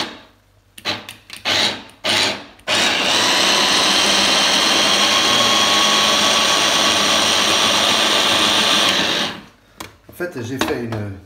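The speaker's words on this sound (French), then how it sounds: "Et je vais hacher tout ça menu." An electric chopper or blender finely chops asparagus in one loud, continuous whir lasting about seven seconds, with short knocks and handling noises before and after.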